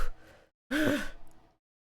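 A voice imitates heavy, out-of-breath panting: a short breathy exhale, a brief pause, then a longer, louder sighing "whew" with a voiced rise and fall, close to the microphone.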